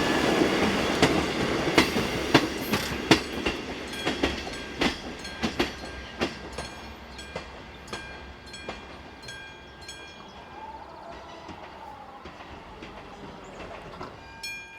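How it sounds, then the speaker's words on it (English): Diesel railcar 814058 pulls in on the service from Teplice to Hradčany, its wheels clacking over rail joints in a loud rhythm that slows and fades into a softer rumble and squeal as it stops. "Here 814058 arrives with the 1032 from Teplice to Hradicin"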